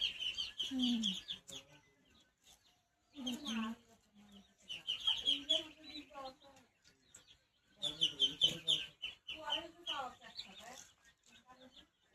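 Chicken chicks cheep and cluck in busy clustered bursts close by, with short pauses between, and a low voice murmuring faintly underneath.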